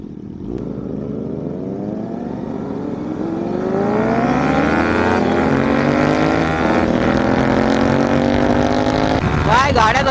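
A Benelli 600i motorcycle on a highway accelerates hard, its engine note rising steadily through the gears into a loud, sustained roar with wind rush, close to the rider, ending in a sharp rev.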